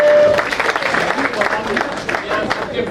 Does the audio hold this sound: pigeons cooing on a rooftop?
no